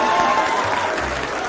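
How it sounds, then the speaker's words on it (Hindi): Brief, steady applause from a studio audience on a televised debate, a dense clatter of clapping with a low hum beneath it. "बुलडोजर पर तालियां बज रही हैं"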